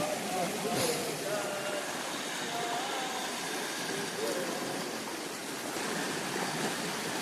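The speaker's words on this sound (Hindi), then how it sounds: "और नदी देखिए कैसे बह रही है" A river flowing in cold weather, a steady broadband rush of water running throughout, with people talking faintly over it.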